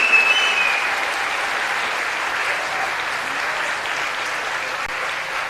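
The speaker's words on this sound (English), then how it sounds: "let's give Montreal, our second place design finisher, a round of applause." A large audience at a Formula SAE electric-car design awards ceremony gives sustained, even applause for the second-place team, a loud steady wash of clapping with a brief whistle at the start.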